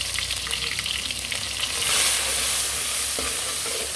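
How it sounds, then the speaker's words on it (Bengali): Chopped onion and garlic hitting hot oil in a pan for a Bangladeshi home-cooked dish, a loud continuous sizzle that swells after a couple of seconds as the pieces settle in, with faint stirring clatter and no talk. "এদিকে তেল গরম হয়ে আসছে, আমি এখন পেঁয়াজ কুচিগুলো দিয়ে দিব।"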